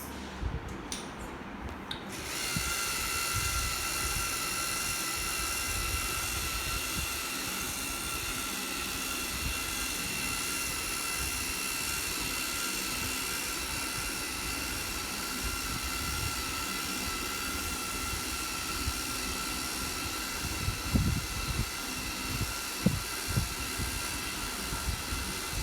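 Lego Mindstorms EV3 geared carrier with a small drive gear and large driven gear, hauling a load up a hill: a steady whirring motor drone throughout, close and continuous, with a few faint clacks near the end.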